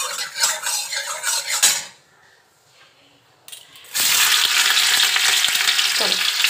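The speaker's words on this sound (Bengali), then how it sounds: "এইখানে অল্প একটুখানি ঘি দিচ্ছি, দিয়ে ভালো করে পনিরগুলো ভেজে নেবো আগে" Paneer frying in ghee and oil in a wok, with sizzling and clattering utensil scrapes, then a short quiet pause before a loud steady sizzle returns, close and with no talking.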